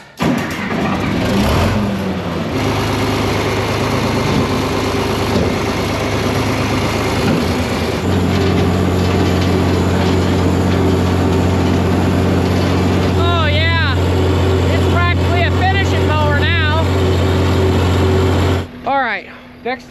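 Riding lawn mower engine droning loudly and steadily close by on a farm, with someone talking over it and some squeaks near the end before it cuts off.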